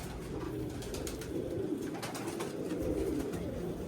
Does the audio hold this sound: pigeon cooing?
yes